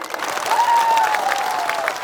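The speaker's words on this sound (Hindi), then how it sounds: "ताली दीजिए इनको।" A crowd claps steadily at a political rally in Tripura, with sustained applause filling the space throughout.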